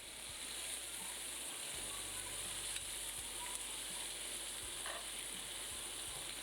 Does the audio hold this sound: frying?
yes